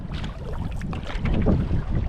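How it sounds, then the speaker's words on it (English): Wind gusting over open water around a solo canoe, a Northstar Trillium or Phoenix, being paddled in windy conditions; a continuous rough, blustery rush with microphone buffeting that swells louder toward the end, with no voices. "When it's windy like this"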